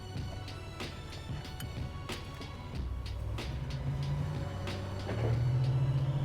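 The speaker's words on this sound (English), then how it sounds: "You can hear the turbo already." A Buick Grand National's turbo spools up from inside the cabin, a rising tonal whine over steady engine drone and road noise that grows louder toward the end.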